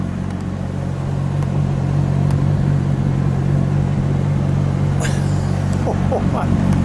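Loud, steady engine drone and rumble from a grey 2011 Porsche 911 997.2 GT3 RS with a 3.8-liter engine, held close and continuous throughout, with brief voices near the end.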